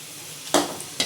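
Garlic dropped into hot oil with fenugreek seeds for Tamil oil brinjal curry, bursting into a loud sizzle after a quiet moment, then a second sharp flare of frying near the end, with no talking.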